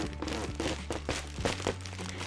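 Stiff plastic joints of a brand-new Smart Doll creak and crunch as the kneeling doll is straightened, giving a few close, uneven squeaks and crackles over a steady low hum.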